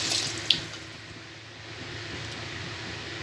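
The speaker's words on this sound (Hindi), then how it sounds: "अब इसमें पानी ऐड करते हैं।" Water pours steadily into a pot of mutton korma, a continuous hissing splash after a brief clink near the start, close and fairly even in level throughout.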